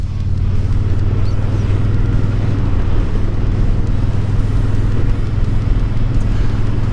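A car overtaking another vehicle on the road at around five in the evening, heard from inside as a loud, steady low engine and road drone that holds level throughout, with no talking.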